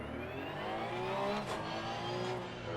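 A racing car engine in the sim racing game Assetto Corsa Competizione hums steadily with a faint rising drone, a continuous moderate-level engine tone without speech.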